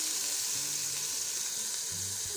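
Spinach and potatoes fry in a pan with a steady, close, hissing sizzle that runs unbroken throughout, with soft low knocks underneath and no voices.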